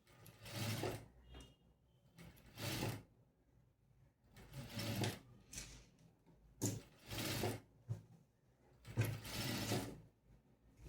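A sewing machine stitches fabric for a boat-neck A-line kameez in short bursts of whirring, about five runs separated by pauses, fairly close and moderately loud with no talking.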